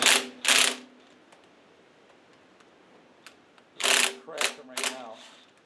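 Ratchet wrench cracking loose heavily torqued cylinder head bolts on a classic Ford Mustang 302 V8 during teardown, two bursts of rapid clicking near the start and a longer series of ratchet clicks later, with scattered ticks between, close and loud.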